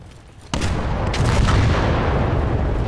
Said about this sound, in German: Ich folge einfach den Explosionen.